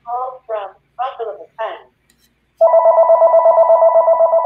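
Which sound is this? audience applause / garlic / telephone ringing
telephone ringing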